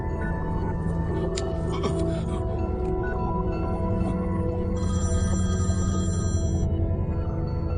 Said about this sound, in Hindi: केके ने फोन किया।